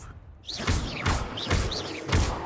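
Confringo blasting spells strike in Hogwarts Legacy, a rapid run of four heavy thudding impacts about half a second apart, loud and close, with brief fizzing whooshes between them.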